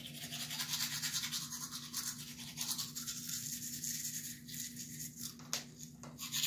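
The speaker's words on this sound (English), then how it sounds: "I'm not really talking because I'm brushing my teeth." Teeth are brushed with a toothbrush in a steady scrubbing rhythm of quick, close strokes, with brief pauses and a few taps near the end, and no speech.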